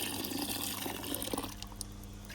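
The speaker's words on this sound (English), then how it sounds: "I'm adding the water" Water pours and splashes into a container of liquid plant fertilizer mix on a homestead, a steady gurgling fill that eases off into lighter trickles and drips toward the end.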